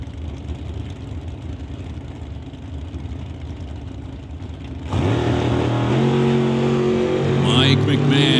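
An injected Camaro drag car at an NHRA Summit ET Series race rumbles loudly, then its engine rises into sustained revving toward the end, heard over a steady crowd and track din.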